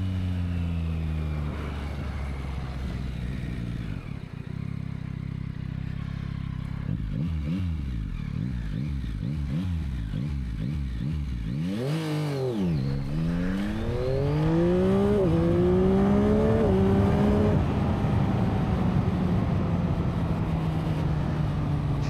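A car accelerating hard on a road, its engine note climbing repeatedly through gear changes, then rising in a long, loud pull that holds strong toward the end, with no talking.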